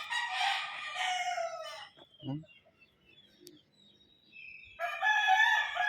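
A rooster crows loudly close by, a long strained call, then after a quieter pause with faint clucking another crow begins.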